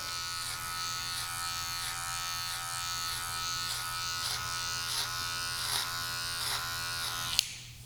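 Electric hair clippers trimming a high bald fade, a steady close buzzing hum with a faint rhythmic pulsing as the blade passes over the head, heard alone and ending with a brief click.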